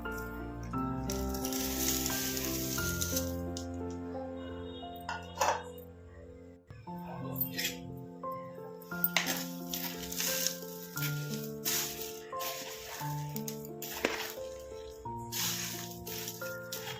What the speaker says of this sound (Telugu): కల్లుప్పు వేసుకొని మంచిగా కలుపుకోవాలండి. అంతా కలిసేటట్టు మంచిగా కలుపుకోవాలి.